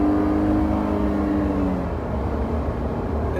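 A Jeep Gladiator Rubicon pulls onto a freeway, its engine droning loud and steady from inside the cabin as it accelerates, with a rising tone that levels off about halfway through.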